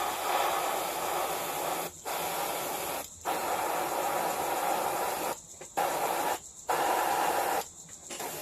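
Long steady hissing bursts from an aerosol can spraying black paint onto a bullpup rifle kit, several sprays separated by brief pauses, close and fairly quiet.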